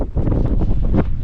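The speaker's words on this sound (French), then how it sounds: "beaucoup de vent, ce qui efface les traces" Strong wind at a high mountain camp on Cho Oyu gusts against the microphone in a short burst of buffeting, low rumbling bursts, close and fairly loud.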